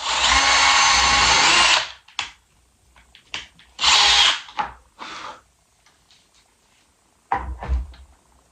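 A power drill whirs loudly through wood in a long burst, followed by a second burst and a shorter one, with quiet knocks and handling sounds between.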